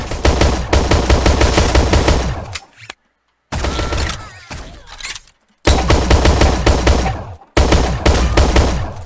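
Grenade blasts and rapid gunfire from the Shell Shockers online shooter game, in loud dense bursts separated by brief silent gaps, with no talk.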